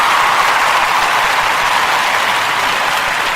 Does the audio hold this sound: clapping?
yes